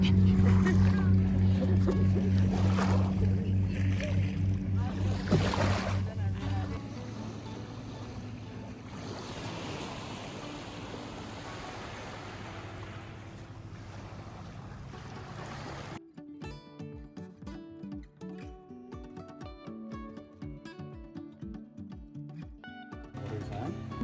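A big boat on open water rumbles with a low, even engine hum that fades after the first few seconds, leaving a quieter, busier background with scattered softer sounds.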